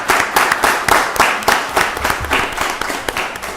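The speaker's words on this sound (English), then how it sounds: "Y'all give her a round of applause." An audience at a county board of commissioners meeting breaks into dense, steady applause, many hands clapping together in a continuous wash that fills the room for several seconds.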